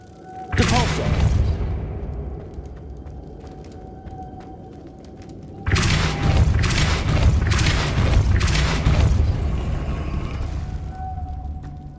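Depulso force spell cast in Hogwarts Legacy: a sharp, booming burst lands near the start, then a second, longer stretch of heavy thudding impacts and rumbling layers over a steady tonal game backdrop, with no talking.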